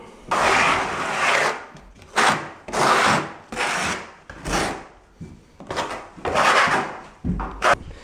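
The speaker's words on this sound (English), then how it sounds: "Then I'm going to use the flat side of the trowel to key the thinset into the substrate." Flat side of a trowel scraping and keying thinset mortar into a subfloor while installing Laticrete Strata_Mat, heard as repeated close, broadband rasping strokes of about half a second to a second each, separated by short pauses.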